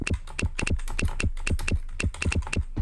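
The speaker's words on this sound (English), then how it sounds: "Start typing." Rapid, uneven clatter of keys being typed on a computer keyboard, close and steady throughout with no talking.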